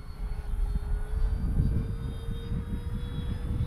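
An E-Flite P-51 1.5 m electric RC warbird flies overhead, a steady motor and propeller whine holding a constant pitch at moderate distance, with a rumbling wind wash underneath.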